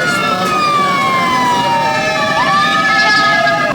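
Several fire truck sirens wail over each other, tones sliding slowly downward, steady and fairly loud with a constant rumble of traffic underneath, as fire trucks respond to a large fire in Taguig City.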